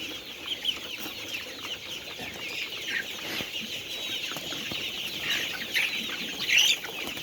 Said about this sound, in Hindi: ये पूरे परिंदे माशाल्लाह फ्रेश परिंदे हैं, जो ऊपर चूजे हैं पूरे फ्रेश चूजे हैं।